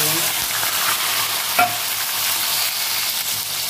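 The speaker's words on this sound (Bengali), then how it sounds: "তেলটা গরম হয়ে গেছে, চিংড়ি মাছগুলো দিয়ে ভেজে নেব।" Prawns frying in hot oil in a kadai, a continuous loud sizzle with one brief stirring clink partway through and no talk.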